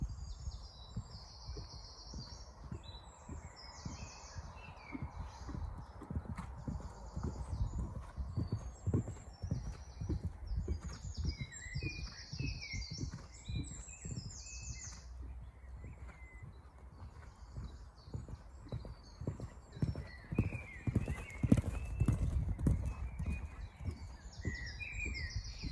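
A horse canters over ground during jumping practice, its hoofbeats thudding in a steady three-beat rhythm, with birds chirping in the background.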